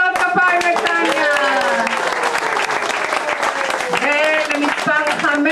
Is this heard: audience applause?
yes